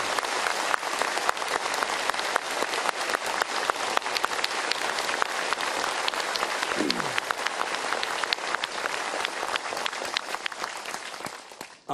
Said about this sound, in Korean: 위대한 박수 소리를 듣는 것 같습니다